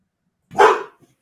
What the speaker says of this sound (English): The mailman is showing up and my dog is going crazy.